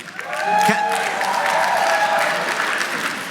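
Diners at an annual awards dinner applaud, the clapping swelling quickly from near silence into a full, steady round that carries on with a few voices and cheers mixed in.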